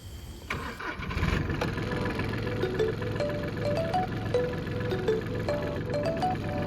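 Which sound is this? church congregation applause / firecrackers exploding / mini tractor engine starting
mini tractor engine starting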